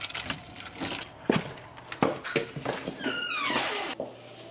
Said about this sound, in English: You know what sucks? Having so many keys.